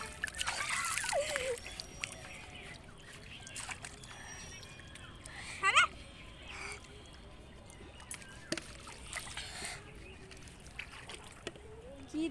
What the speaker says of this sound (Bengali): জল ছিড়াছিস কেন আমাকে?